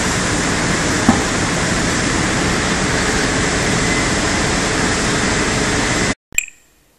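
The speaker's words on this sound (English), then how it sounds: "I'm going to be using a sandpaper grinding wheel to give the finished shape, and a handheld sander" Sandpaper grinding wheel shaping a homemade flat fishtail longboard deck, a loud steady broadband whir that runs unbroken for about six seconds before cutting off abruptly, followed by a short fading clunk.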